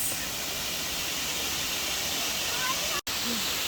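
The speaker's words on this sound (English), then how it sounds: "We've made it to the Silver Run Falls." Steady, loud rushing water from Silver Run Falls in the mountains near Cashiers, North Carolina, a broad, unbroken roar that fills the clip with one brief gap near the end.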